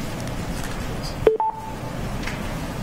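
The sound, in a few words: conference phone beeping on and off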